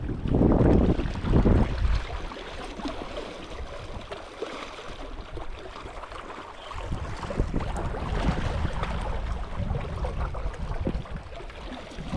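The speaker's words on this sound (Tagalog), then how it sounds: "Mahangin niya eh." Strong gusts of wind on a walleye fishing trip buffet the microphone, loud bursts at the start, then a steady blustery roar with rushing air throughout.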